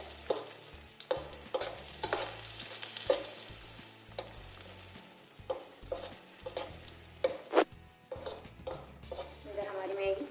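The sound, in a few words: red chillies frying in oil for tadka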